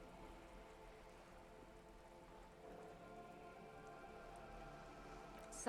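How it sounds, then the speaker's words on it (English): Freezing rain falls steadily in the video game Disco Elysium, a soft, even patter on surfaces, faint and continuous with a low ambient hum underneath. "The rain is freezing."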